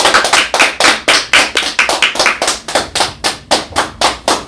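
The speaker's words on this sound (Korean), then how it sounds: "큰 박수로 우리와 같은 박수로 맞이해 주시기 바랍니다" Rhythmic unison clapping from a crowd at a Korean political party event welcoming a speaker: loud, steady, evenly spaced claps roughly four per second, close and strong, with no voices over them.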